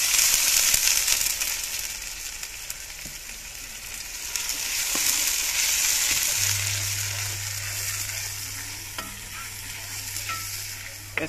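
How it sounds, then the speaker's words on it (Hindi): Ginger and garlic sizzling and frying in a kadai, a bright continuous crackle with stirring scrapes, joined partway by a low steady hum. "अब डालेंगे जी अदरक और लहसुन।"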